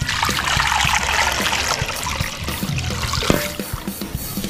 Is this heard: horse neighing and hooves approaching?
no